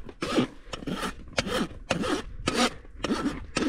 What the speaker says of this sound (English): Just using the fine side of my rasp to smooth it out.